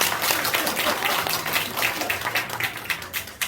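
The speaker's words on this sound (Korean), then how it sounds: "박수." A seminar audience in a church gives scattered applause, uneven claps rising and falling over several seconds at moderate level with no talk on top.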